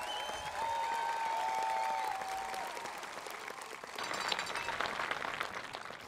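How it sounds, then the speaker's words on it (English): A graduation ceremony audience for the Mountain Ridge High School class of 2023 breaks into sustained applause, a broad crowd of clapping that dips slightly and then swells again, with a few whistles and cheers early on. "let's give the class of 2023 another round of applause for all of their"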